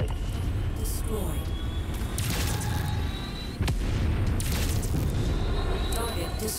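Enemy vehicle blowing up in the Mechwarrior 5 video game, a dense run of booming blasts and gunfire-like bursts layered over continuous loud battle rumble, with someone talking throughout.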